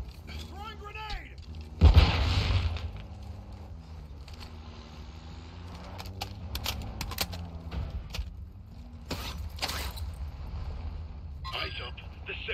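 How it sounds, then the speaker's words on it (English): Grenade blast in the video game Call of Duty Warzone 2, one sharp loud explosion early on, followed by scattered gunshots and battle noise under people talking over voice chat. "Throwing grenade!"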